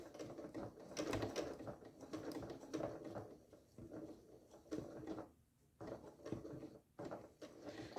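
Sewing machine stitching slowly through the thick layers of a zipper bag, a close, uneven run of mechanical whirring and tapping that keeps stopping and restarting.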